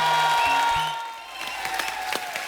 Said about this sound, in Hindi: अरे बहुत कम तालियां, ज्यादा तालियां चाहिए आज।